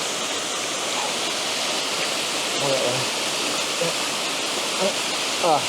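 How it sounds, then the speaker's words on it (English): A waterfall pours steadily outdoors with a dense, continuous broadband rush, close and even in level, while faint voices and small sounds come through underneath. "I've picked out a section of the waterfall"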